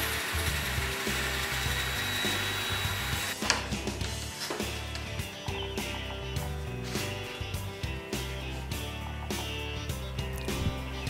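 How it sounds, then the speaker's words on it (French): A band saw cuts a curved outline through wood for a bent glued-laminate form, a dense, steady whir with a sharper buzzing cutting tone that sets in a few seconds in and continues to the end. "un découpage à la scie à ruban"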